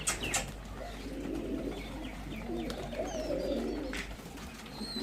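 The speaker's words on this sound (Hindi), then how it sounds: "ये कबूतर है ऊपर से आया और सीधा अपने क्रेट के अंदर गया" A homing pigeon back in its crate gives low, throaty coos in repeated rolling phrases, close and moderately loud, with a few faint higher chirps and some wing shuffling in the background.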